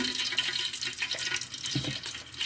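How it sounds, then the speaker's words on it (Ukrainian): Cooking oil pours into a pan on a gas stove, a continuous soft liquid splash and trickle heard up close for a couple of seconds, with no talking. "Так, і тепер наливаємо олію."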